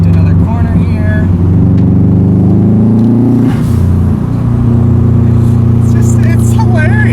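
Engine of a 2004 Subaru WRX STi droning steadily while driving through corners, with a low rumbling note that shifts as it changes gear, loud and close inside the cabin, and someone talking over it.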